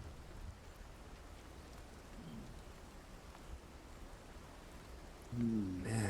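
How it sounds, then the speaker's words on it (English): Heavy rain patters steadily across a roof, with a denser, louder burst of drops near the end. "the pelting rain made it sound like the roof was hot"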